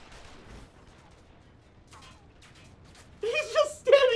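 Gunfire in a Final Fantasy XIV Stormblood cutscene, a short burst of sharp shots arriving in the last second after quieter stretches, with talk close by.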